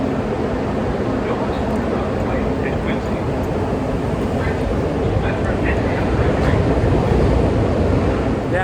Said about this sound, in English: wait till the train goes,